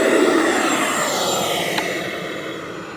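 A giant RC model jet roars steadily through its takeoff run with no wind, its jet engine making a broad, loud whoosh that fades slightly as it climbs away.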